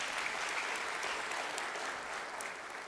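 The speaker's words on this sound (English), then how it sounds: "Let us clap for the CS again." An audience at an African SME business event claps for a cabinet secretary, dense, even applause that holds steady and eases off slightly at the end.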